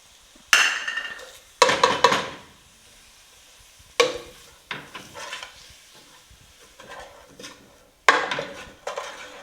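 Ground beef stirred with taco seasoning in a pan: repeated bursts of spatula scraping and clattering against the metal over a faint sizzle, each stroke loud and close, separated by short quiet gaps, with no voices.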